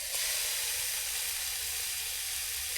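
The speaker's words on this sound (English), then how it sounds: "Let's see if we get a sizzle." A steady, bright sizzle of bacon and eggs frying in a hot pan on an alcohol camping stove, constant hiss with no pauses or talking.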